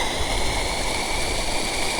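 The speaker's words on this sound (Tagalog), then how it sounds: "Ganda ng agos ng tubig." Steady rushing flow of stream water on a steep mountain trail, a continuous broadband wash with no pauses, close and fairly loud, with no talking.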